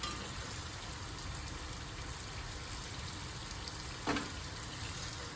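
Chana dal pakoda deep-fries in hot oil with a steady, close, hissing sizzle, and one brief clink stands out near the end.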